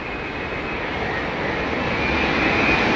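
Jet airliner landing at Heathrow Airport in gusty wind, a steady broadband engine roar that builds slightly over three seconds, close and loud, with wind rumble and no talking.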